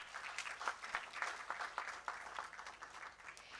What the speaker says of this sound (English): Let's once again give a huge round of applause to him.